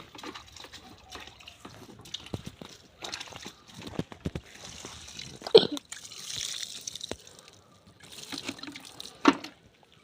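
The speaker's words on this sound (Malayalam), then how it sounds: "തൈ നട്ടതിന് ശേഷം വെള്ളം തളിച്ചു കൊടുക്കാം" Water splashes and patters close by in short bursts onto freshly planted seedlings, sprinkled unevenly with brief pauses between pours.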